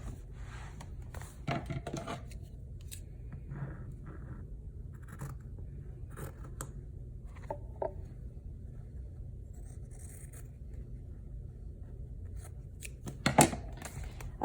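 Someone cuts a recipe junk journal cover with faint, intermittent snipping and scraping, close but quiet. A brief louder scrape comes near the end, with no talking.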